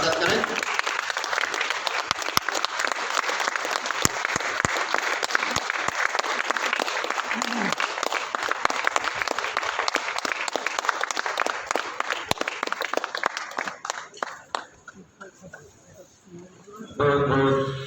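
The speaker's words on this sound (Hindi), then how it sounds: "जोरदार तालियों से उनका स्वागत करें" Sustained loud applause from a standing audience welcoming the chief guest at a club gathering in Kanpur, steady clapping lasting most of the clip before tapering off, with a voice starting up near the end.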